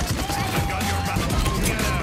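Rapid gunfire from a Paladins match, a brief, steady stream of shots under chaotic game noise.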